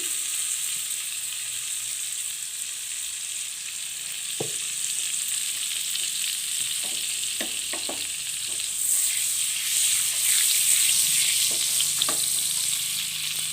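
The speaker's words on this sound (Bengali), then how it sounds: "এখন আমি এখানে বাটার দিলাম, আর সাথে অ্যাড করব খাওয়ার তেল মাছগুলো ভাজার জন্যে" Butter and cooking oil heat in a pan for frying prawns, giving a steady sizzle with a few sharp clinks of stirring. The sizzle grows louder toward the end.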